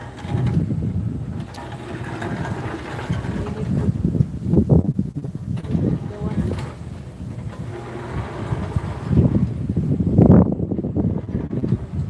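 Strong wind roars and buffets the microphone continuously, with low rumbling gusts swelling and fading throughout.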